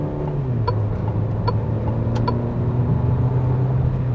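A Peugeot 3008 engine under hard acceleration makes a loud, continuous drone heard from inside the car, its low tone dipping briefly and then holding steady as the revs climb.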